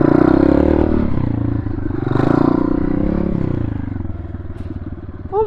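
A TTR 125cc pit bike engine revs and strains while climbing a hill, a loud close buzzing drone rising and falling with the throttle, with some rattling clatter and a brief voice near the end.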